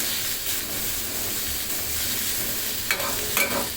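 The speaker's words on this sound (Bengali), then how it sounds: "এটা প্রায় দু মিনিটের মতন একটু ভেজে নেবেন" Chicken fries with ginger and garlic in a pan, a steady close sizzle with occasional stirring scrapes near the end.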